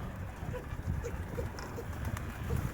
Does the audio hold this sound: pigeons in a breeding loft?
yes